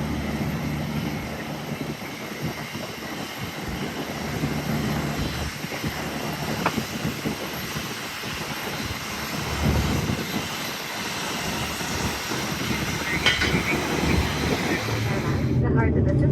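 Steady airliner engine drone inside a domestic flight cabin at Davao International Airport in the Philippines, a continuous loud rumble lasting throughout with a cabin announcement voice over it.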